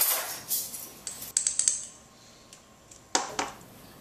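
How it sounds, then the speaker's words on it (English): A metal utensil stirs a sour cream mixture with onion powder in a bowl, giving sharp close clinks and scrapes in two short bursts separated by quiet. "Give that a nice stir."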